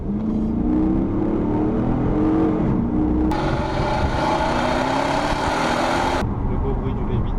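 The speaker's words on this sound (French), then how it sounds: "Le beau bruit du V8." The V8 engine of a Dodge Charger RT revs loudly, its pitch rising and sweeping up, with a brighter burst of roar in the middle, while a voice talks over it.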